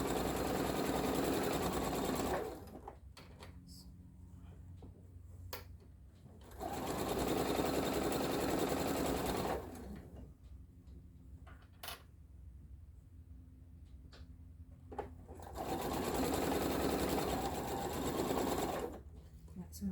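A sewing machine pieces star points for a quilt block in three separate bursts of rapid, steady stitching, heard close up. A person talks during the quieter pauses between the runs.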